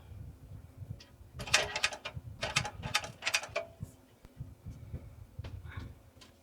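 A sewing machine runs a seam on a triple-zip crossbody bag with a quarter-inch allowance and 3.5 stitch length, backstitching at the start: short clattering mechanical bursts in a stop-start rhythm, close and moderately loud.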